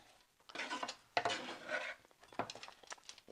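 Chilli paneer cubes and spring onions tossed in a metal pan, giving a few quick scraping, clattering bursts of food and spatula against the pan, close and fairly quiet.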